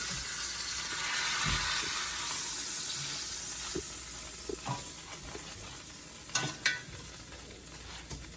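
A roast beef browning in a hot pan, with a continuous loud sizzle and occasional sharp pops and crackles, plus a few knocks as the meat is shifted.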